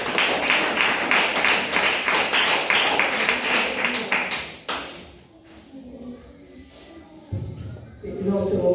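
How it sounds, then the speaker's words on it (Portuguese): A church congregation claps together for Jesus during a service, dense rhythmic hand claps for several seconds over a murmur of voices, then stopping abruptly into quieter room sounds and scattered talk. "palmas para Jesus"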